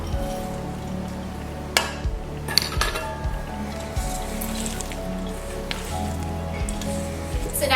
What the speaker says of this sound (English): we just want to fold these through until they're just combined